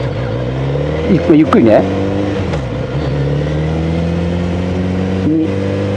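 A Kawasaki Z900RS motorcycle engine is heard close up while cornering, holding a steady mid-pitched drone with the throttle only partly closed and rising and falling slightly in revs. A rider talks over it briefly.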